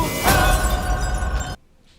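Glass shatters loudly in a Final Destination Bloodlines movie scene at a barbecue, a sharp crash followed by over a second of dense tinkling debris that cuts off abruptly into near silence.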